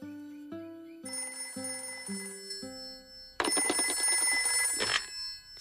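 A cartoon telephone in a Peppa Pig episode rings in a bright electronic melody of stepped tones, then gives way to a loud, continuous jangling bell that stops abruptly near the end.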